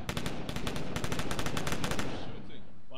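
Rapid automatic gunfire in a capture-the-flag shooter game match, loud dense bursts of shots in quick succession that thin out toward the end, with faint voices underneath.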